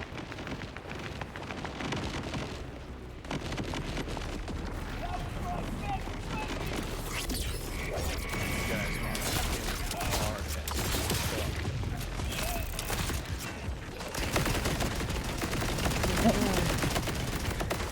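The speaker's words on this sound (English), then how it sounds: "Minigun." Sustained rapid minigun fire in the video game Borderlands 4, a dense continuous rattle running steadily under game audio for the whole stretch, with players talking over it.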